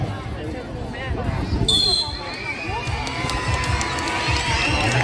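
A crowd cheers through a school sports-day running race at a bilingual school, a steady bed of shouting and calls with a commentator talking over it.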